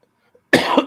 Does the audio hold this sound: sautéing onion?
no